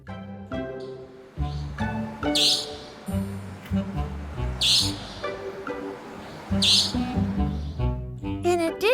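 Year-round resident Taiwanese bird singing its mating-season song, three bright bursts of chirps roughly two seconds apart over steady background music.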